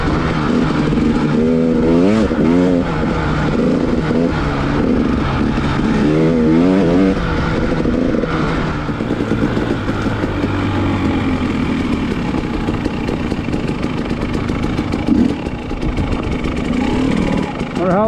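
Dirt bike engine droning and revving steadily throughout a winter night ride on snow, loud and continuous, with pitch rising and falling as the throttle changes, and a rider's voice talking over it.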